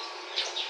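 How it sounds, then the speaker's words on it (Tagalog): Pet cockatiels give a couple of short, bright chirps, close and fairly faint, with no talking over them. "Meron akong ibon dito. Ito ay sina Cockatiel."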